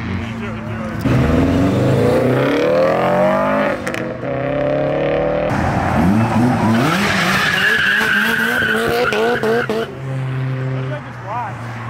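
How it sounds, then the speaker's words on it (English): A modified V6 Mustang making about 600 horsepower skids and revs hard as it leaves a car meet, tires squealing and engine climbing through loud bursts, while people talk and shout nearby. "That's a V6 Mustang that makes like 600 horsepower right there."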